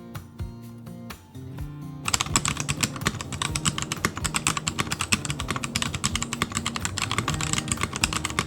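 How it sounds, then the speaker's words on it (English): Rapid, steady typing clacks on a crystal keyboard with transparent acrylic keycaps and an acrylic base, crisp close keystrokes in a dense rhythm, preceded by a short musical intro. "I think I really like the typing experience on these keycaps."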